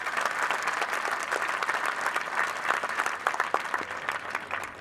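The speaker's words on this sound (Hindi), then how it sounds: "सलाम करने के लिए जोरदार तालियां हो।" An audience at a school adoption project launch in Noida gives loud applause, thick overlapping clapping with a few sharper claps rising out of the mass, carrying on throughout.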